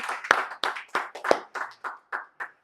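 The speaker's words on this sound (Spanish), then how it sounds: "Dar un aplauso por estar allí." A small church congregation clapping during a service, about nine sharp, separate claps in a quick uneven rhythm, close and clear with no talk.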